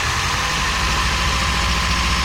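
An old 1978 Ford Courier mini truck engine, pulled out of long abandonment, runs at a rough, steady idle nearby with a low knocking pulse under a broad, noisy hiss.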